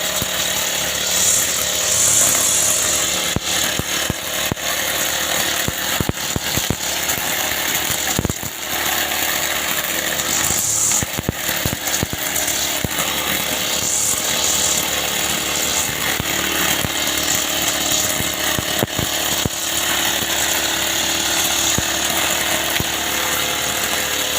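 A chainsaw cuts down a tree, its loud motor snarling continuously with repeated sharp rasping bursts and brief dips as the blade bites into the wood, close by and with no talk.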